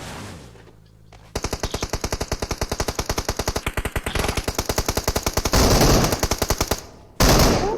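Rapid automatic gunfire in a video game: a long, loud, evenly spaced burst of shots that runs for several seconds, followed by a short pause and one last dense volley at close range.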